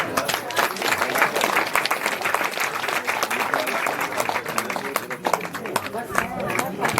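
A crowd at a Bharia community social meeting in Bilanda claps to welcome guests, a dense, continuous burst of applause with a voice speaking over it.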